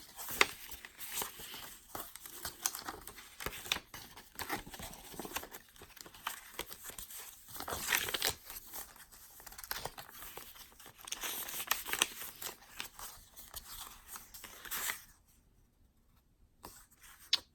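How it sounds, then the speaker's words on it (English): Crispy paper for a junk journal made from a vintage Little Golden Book crinkles and rustles up close in irregular handling bursts, then stops near the end into quiet. "My daughter's crispy paper."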